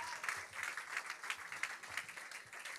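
Congregation at a church worship service clapping steadily in rhythm, a dense, fairly loud wash of many hands with regular beats and no talking over it.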